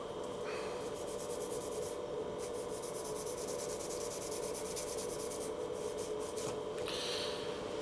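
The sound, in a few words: rubbing solder joint clean with Scotch-Brite pad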